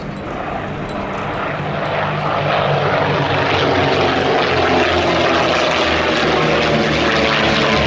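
A propeller aircraft, a racing design, flies past at the Duxford air show, its loud, steady engine drone filling the sky alone with no voices.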